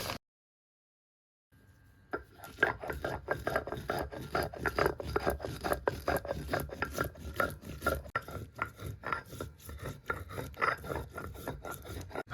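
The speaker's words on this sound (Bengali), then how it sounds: "এবার শিলের উপরে নিয়ে নেব বড় চামচের এক চামচ গোটা জিরে এবং নিয়ে নেব এক ইঞ্চি আদার কুচি এটাকে খুব সুন্দরভাবে একটা মিহি পেস্ট করে নেব" Cumin seeds, chopped ginger and green chili are ground into a paste on a stone slab with a grinding stone, giving fast, rhythmic rasping strokes, close and steady after a short silent start.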